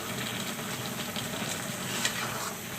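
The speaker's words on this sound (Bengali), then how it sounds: "দেখুন বলক উঠে গেছে" Jackfruit boiling in a covered pot, giving a steady bubbling hiss with faint small pops throughout and no talking.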